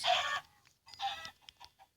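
Minecraft chickens clucking in short, busy bursts, a loud cackle at the start, then a few quicker clucks after a brief pause.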